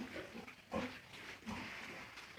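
Pigs about three months old at a pig farm in Assam give faint, low grunts and snuffles, with a couple of slightly louder grunts, distant and quiet, with no talk.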